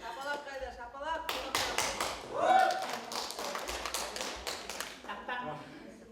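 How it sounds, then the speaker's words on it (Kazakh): Guests at a twenty-year reunion in a restaurant break into a burst of applause that rises after a moment and continues under people talking and calling out. "Шапалақ қайда, шапалақ."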